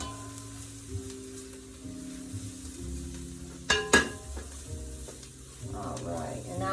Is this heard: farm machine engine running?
no